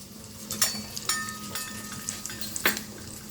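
Mustard and cumin seeds splutter in about two spoons of hot oil, tempering for an onion-tomato saaru. A few sharp, close pops burst out at uneven intervals over a low, steady sizzle.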